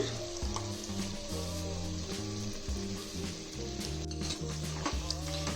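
Chicken frying in a pan as masala is added, a steady loud sizzle with stirring throughout, overlaid by strong tonal music.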